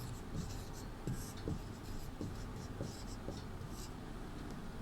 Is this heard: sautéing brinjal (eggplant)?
no